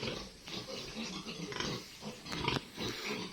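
Pigs left behind at a rural farm in the province grunt and oink, several soft grunts scattered across a quiet background.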